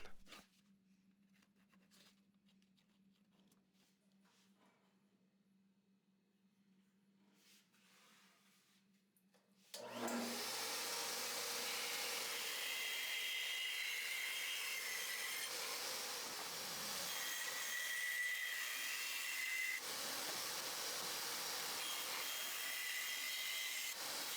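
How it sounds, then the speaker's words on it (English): A bandsaw cuts the corners from a 1x10 board: a faint hum with light taps gives way to a sudden, steady, loud whirring roar of the blade that continues to the end. "then head to the bandsaw to cut most of them out, just outside the line"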